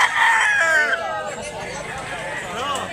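Roosters crow and chickens cluck at a poultry market in Mantalungon, Cebu, with one near, loud crow ringing out at the start and more birds calling behind someone speaking.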